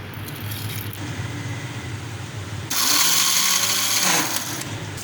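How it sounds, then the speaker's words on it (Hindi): Nutmeg, mace and garam masala coarsely crushed for biryani. A steady mechanical rumble breaks into a loud, harsh whirring burst of about a second and a half before easing back down. "अब ये मैं इसको कूट लूँगी मोटा मोटा।"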